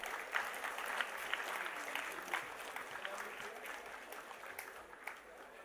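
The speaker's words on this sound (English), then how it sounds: "Round of applause, please." Steady applause from a crowd, a dense patter of clapping that holds at an even level throughout.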